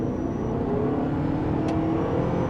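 A 2026 Toyota RAV4 Woodland SUV in sport mode accelerating hard: a steady, fairly loud engine whir that climbs smoothly in pitch for a couple of seconds, heard from inside with no talk.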